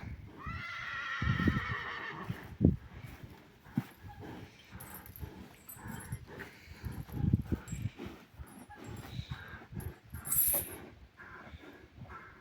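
A stallion neighs loudly nearby, a rising whinny followed by snorts and scattered hoof and movement noises.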